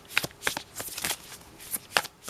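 Tarot cards shuffled close up in a series of crisp riffling bursts, about six quick flurries with short pauses, quiet and alone.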